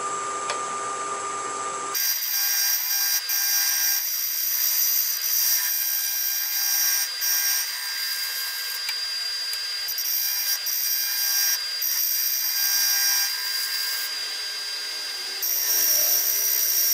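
A woodturning tool on a lathe shaves thin ribbons from a patterned segmented bowl, giving a steady, close, hissing scrape over a constant high motor whine that runs the whole time without talk.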